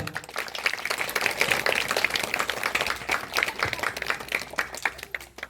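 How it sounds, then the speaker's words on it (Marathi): Applause from a Marathi community gathering as officers of a Buddhist association are appointed, scattered clapping of moderate loudness running throughout with some overlapping voices. "टाळ्या"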